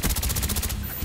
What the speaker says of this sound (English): I'm using the gun, using the Famous, the silencer so nobody can see me on the map while I'm shooting